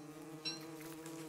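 A bee buzzes faintly in the Don't Starve Together video game, a thin insect drone sitting under a steady low musical hum, with no talking over it.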